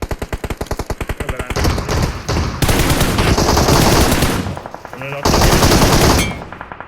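Rapid automatic gunfire from the PUBG video game, beginning as a fast rhythmic burst of shots and then running into dense, loud continuous volleys with brief pauses between them.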